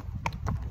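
Hooves of a ridden pony clip-clopping along a road, two or three sharp close strikes in quick succession over a low rumble of background noise.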